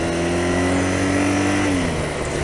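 A BMW R nineT Racer motorcycle engine rumbles loud and close at a steady idle-like drone, its pitch easing down slightly near the end.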